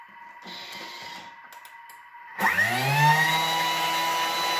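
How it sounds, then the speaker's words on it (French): A Thermomix kitchen mixer spinning up to speed 10 to grind sugar into icing sugar, a loud rising motor whine that settles into a steady high-pitched roar after some quieter clattering. "je vais mettre mes 50 g de sucre dans le bol de mon Thermomix que je vais mixer 10 secondes à vitesse 10"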